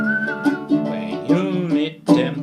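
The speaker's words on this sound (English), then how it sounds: "give a little whistle, give a little whistle" A person whistles a bright, clear melody in short phrases, close and fairly loud, with steady sustained notes broken by brief pauses, alongside a song on a baritone ukulele.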